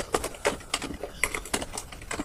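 Typing on a computer keyboard, a run of crisp, irregular key clicks close up with short pauses between bursts, no talking.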